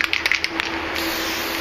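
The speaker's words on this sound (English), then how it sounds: "spray a little glue on there" Elmer's spray adhesive from an aerosol can is sprayed onto paper: several short hissing puffs, then one longer continuous spray, loud and close, with no talking.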